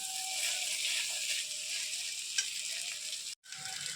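Jackfruit and shrimp curry with potatoes sizzling in a pan, a steady bright crackle with occasional stirring scrapes, briefly cut off near the end, no talking.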